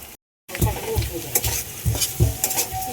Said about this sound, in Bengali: আদা দিয়ে একটু নেড়ে নিচ্ছি